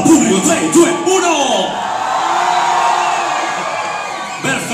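A live crowd at the Sanremo 2019 red carpet shouts, whoops and cheers in a loud, excited burst that then sustains as a broad roar, with a person speaking over it.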